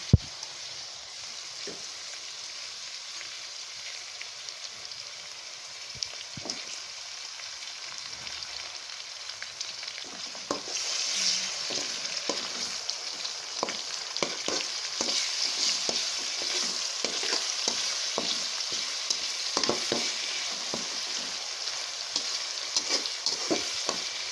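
Continuous sizzle of garlic ginger paste frying in a pan, growing louder partway through, with occasional scraping and stirring clicks and no talking.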